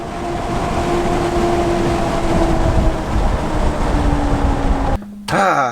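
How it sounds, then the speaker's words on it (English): Rumbling from the worn front suspension of a car while driving, a steady low drone with faint tonal whine that cuts off abruptly near the end, followed by a brief sweeping tone. "I still have a rumbling in the front. Oh, I have a lot of popping in the front up there."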